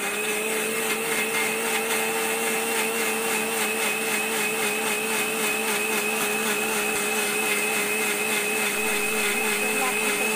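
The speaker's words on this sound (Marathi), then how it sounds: "तर आता मी हे वाटण मिक्सरला लावून घेणार आहे." A mixer grinder grinds a spice paste with water for a Marathi drumstick, potato and brinjal curry, a steady loud whirring drone that runs unbroken throughout with no talk over it.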